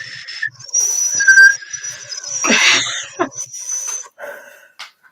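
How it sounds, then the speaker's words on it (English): Several people whistle together at once, making thin, wavering, breathy whistles. They overlap with breathing and rough exhalation noises and last a few seconds, loud and close. "we're going to go out with a whistle, maybe, if we can do it."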